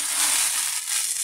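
Tuna flakes cook in hot oil in a pan, giving a steady, loud, close sizzle that holds without a break from start to finish.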